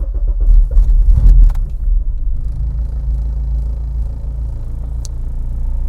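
A Honda K24 engine with a Fuel Tech drive-by-wire setup cranks and fires with a rough, loud burst in its first second and a half, then settles into a steady, close, low idle rumble.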